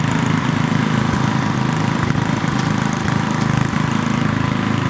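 Riding lawn mowers at a race run with a steady, loud, droning engine that holds a constant throbbing rumble throughout, close and with no talk over it.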